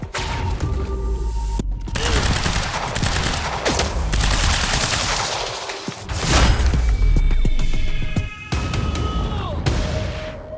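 Rapid bursts of shotgun fire in a fast-paced video game with a time-dash ability, loud repeated blasts crowding together with crashing impacts and brief gaps between volleys.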